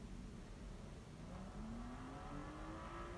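Nissan GTR V-spec engine in Need for Speed Payback, revving with a rising tone as it accelerates, faint and somewhat distant beneath a broad steady wash of noise.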